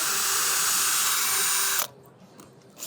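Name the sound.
power drill pre-drilling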